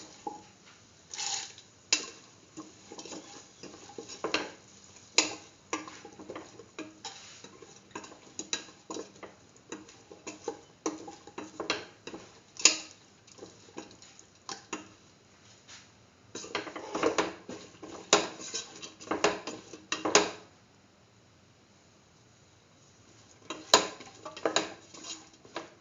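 A spoon stirs lentil pumpkin stew in a pot, giving irregular scrapes and soft clinks against the pot that come in bursts with quiet gaps in between.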